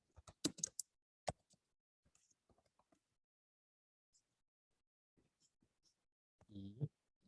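Single key presses on a computer keyboard while working in Blender, a few sharp clicks spread out with long pauses, and a voice talking briefly near the end.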